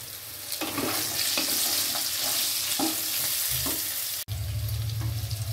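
Spices with ginger paste and turmeric fry in hot oil for a traditional Bengali shukto, a steady close sizzle with soft scraping stirs, ending in a sharper hiss as more is added.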